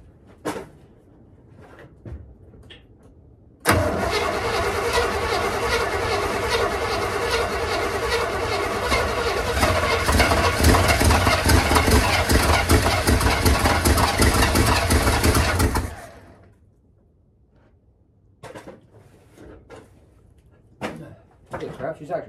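A 1978 Chevrolet K30 truck that has sat for 24 years, its engine cranking over and running loud and rough for about twelve seconds before cutting off, with clunks and voices around it.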